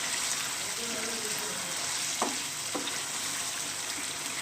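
Arvi gosht masala with oil risen to the top is mixed in a cooking pot: a soft, steady frying sizzle with a couple of brief scrapes of the spoon, close and quiet, with faint voice traces.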